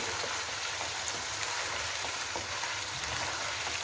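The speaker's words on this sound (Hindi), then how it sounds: "गोश्त को फ्राई करते हुए हमें 1 से 2 मिनट हो चुके हैं।" Chicken fries in a karahi after salt is mixed in, giving a dense, even sizzle like steady rain that stays close and constant throughout.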